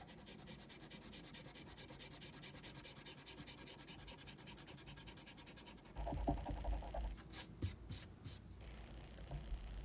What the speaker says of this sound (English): now I can erase these guidelines